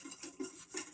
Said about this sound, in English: So I just sift in a little at a time and then whisk it in.